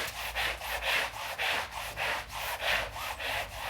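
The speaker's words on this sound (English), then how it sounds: "So I'm just going to dip this in here and just give this a little scrub." A firm rubber-bristled brush scrubs a wet rug outdoors in steady back-and-forth strokes, about seven rhythmic rasping passes, close and fairly loud with no talking.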